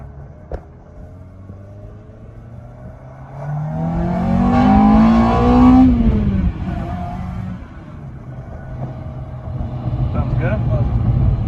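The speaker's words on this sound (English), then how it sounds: "I wonder how that VTEC sounds right now." A Honda RSX with a swapped K20A2 engine revving up into VTEC while driving, the engine note climbing to a loud, rising wail and then dropping away, with a voice talking over the engine.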